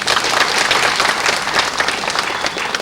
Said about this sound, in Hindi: जोरदार तालियों से हमारे मुख्य अतिथि के सुंदर शब्दों के लिए आप तालियां बजाएं